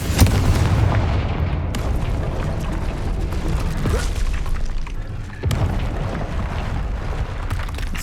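Confringo fire spell blasts in Hogwarts Legacy, loud booming explosions with rumbling impacts, two sharp bursts standing out against a dense continuous roar.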